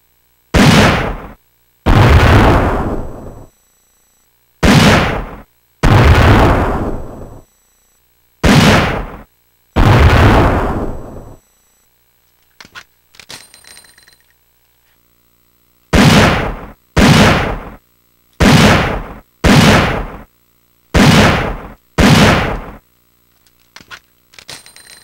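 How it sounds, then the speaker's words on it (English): Magnum .44 revolver in Resident Evil 3: Nemesis fires about eleven loud, close gunshots in spaced singles and pairs, each with a ringing tail, with brief quiet mechanical clicks partway through. "let's test the Magnum out"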